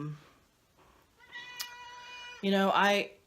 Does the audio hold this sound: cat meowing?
yes